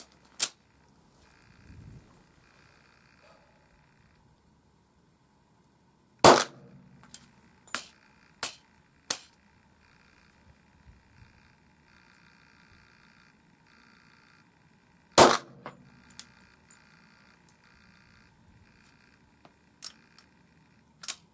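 Several sharp, loud reports from a .45 ACP pistol firing rounds loaded with injection-molded muzzleloader sabots, spaced irregularly with faint mechanical clicks and handling noise in the quiet between them.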